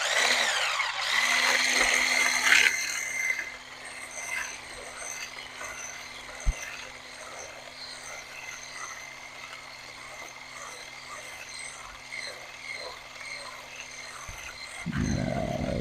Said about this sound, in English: Go with the hand mixer.